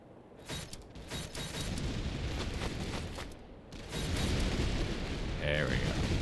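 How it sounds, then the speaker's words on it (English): Artillery fire in the strategy video game Ember of an Army: a steady, dense roar of rumbling blasts and mechanical clatter that swells louder partway through, with no voices heard. "they decided to turn around and try to nail me with artillery here"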